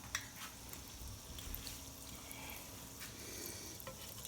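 Donuts frying in hot oil, a soft, steady sizzle with faint bubbling and occasional light clinks, quiet and continuous throughout.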